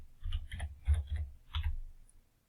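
Keys tapped on a computer keyboard while typing into a MATLAB script, a short run of clustered clicks in small bursts, close and clear, fading out at the end.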